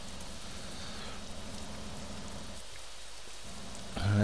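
Steady rain pours down in American Truck Simulator at night in Montana, a dense continuous hiss that briefly thins before a louder rush swells at the very end.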